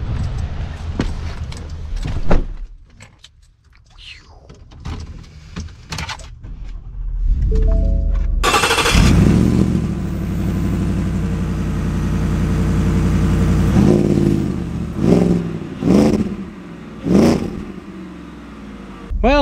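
A Shelby Super Snake Sport F-150 truck starts up with a loud roar after some clicks and handling noises, then settles into a steady engine drone as it drives off, with a few revving swells near the end.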